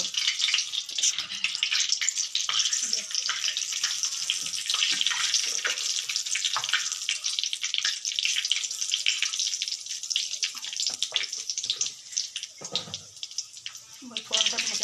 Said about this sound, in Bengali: এবার আমরা ফোড়নটা দেব